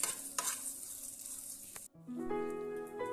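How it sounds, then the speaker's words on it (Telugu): Hot tempering poured into coconut chutney gives a short sizzle and scraping stir, followed by a brief sharp clatter and a steadier mixing sound close by. "పోప్ని కొబ్బరిలోకి వేసేసుకోవాలి"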